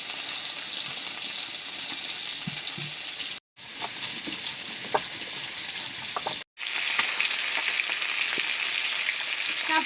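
Fish sizzles steadily in hot oil in a pan, a dense continuous frying crackle with scattered pops, cut by two brief silent gaps, with no talking over it.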